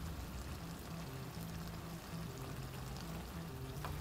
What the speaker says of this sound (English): let's also add this banana ketchup. So I'm using Filipino banana ketchup